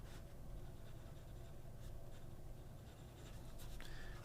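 An Aurora Talentum rollerball pen moves across paper in a soft, steady scratch, very faint and close, with a few slightly sharper strokes near the end.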